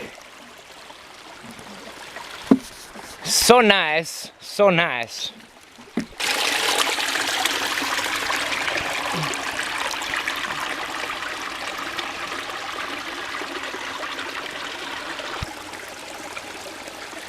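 A person talks briefly at first, then a steady, continuous rush of flowing water from Oberg Creek fills the rest, close and even.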